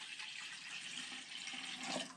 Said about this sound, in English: you could dump that 2 cups of water in there